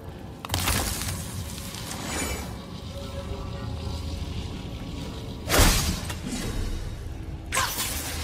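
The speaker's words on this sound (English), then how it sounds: "Get tired of shattering things with this." Objects shatter in the God of War video game with crashing bursts, one near the start, a louder one around the middle and another at the end, over a steady bed of game ambience with no talk.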